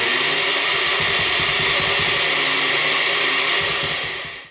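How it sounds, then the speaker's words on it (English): An electric kitchen blender purees strawberries for homemade strawberry ice cream, a loud steady whirring drone that holds level for several seconds, then winds down and cuts off at the end. "we broke out our blender. And we're going to take our strawberries and we're going to puree the hell"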